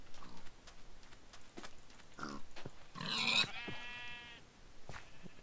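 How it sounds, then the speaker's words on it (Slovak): Pig grunts from the Minecraft video game, a few short squealing and grunting calls in the middle, with scattered game clicks and faint ticks around them, no talking over it. "Ale máme tu ďalšie prasiatko."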